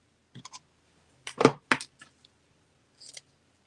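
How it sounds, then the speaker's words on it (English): Scissors snip paper strips for a junk journal in a quiet room, with a handful of short, crisp cuts and clicks spaced irregularly and heard close up. "I'm just cutting it down into thinner strips so I can really use it."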